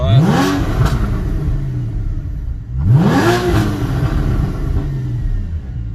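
A 2013 Porsche Cayman S 981 with a loud exhaust revs hard twice, each throttle blip rising sharply and then falling away, close and loud with no talking.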